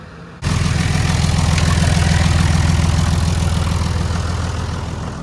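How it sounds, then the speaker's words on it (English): A tractor engine starts abruptly and runs steadily, a loud close throbbing idle with a rhythmic low pulse that continues without pause. "I'm going to put the tractor away for the night."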